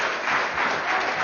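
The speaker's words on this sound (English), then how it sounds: "I appreciate your passion, but can we just keep the applause to let's wait until we're done." Applause from the public audience at a legislative hearing on election testimony, dense steady clapping filling the room on its own, fairly loud throughout.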